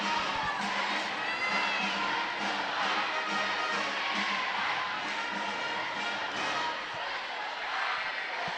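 A dense crowd cheers and shouts steadily in a high school gym as the cheer squad performs on the court during a boys basketball game, loud and sustained with whoops rising above the roar.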